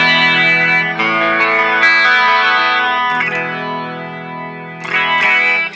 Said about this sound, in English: So now we're going to be hearing this guitar through this speaker.